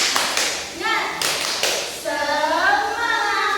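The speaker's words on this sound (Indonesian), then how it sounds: "Oke, tepuk semangat." A class of children does a rhythmic spirit clap, sharp bursts of hand claps mixed with chanting voices, close and lively.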